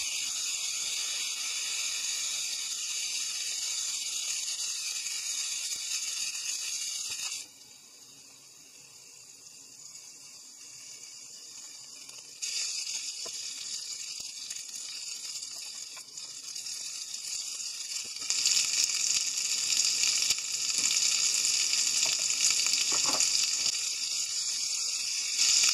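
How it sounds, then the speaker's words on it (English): Meat rolls wrapped around avocado sear in a pan, giving a continuous bright hiss that drops quieter for a few seconds, then returns and swells louder toward the end, with no voices. "sear the surface to allow the meat to settle"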